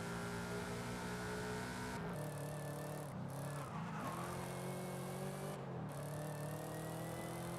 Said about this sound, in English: Definitely sounds like an American car right there.